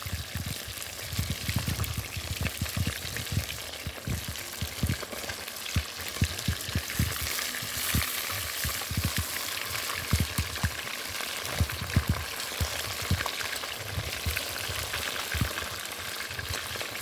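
Fish fries in oil in a pan, a dense continuous sizzle with crackling pops and spatters, steady and close, with no talking.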